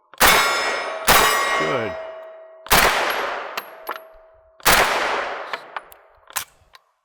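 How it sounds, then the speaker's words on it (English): Sharp shots from a short-barreled rifle fired at steel targets on a range, four loud cracks each followed by a ringing metallic clang that decays slowly, with a couple of lighter pings near the end and brief speech. "go ahead and shoot a little bit"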